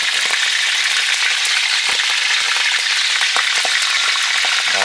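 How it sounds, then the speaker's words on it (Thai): Swallow birds frying in hot oil, a steady, dense crackling sizzle that runs loud and unbroken throughout with no talk over it. "นี่มันขั้นตอนการจืนนะ"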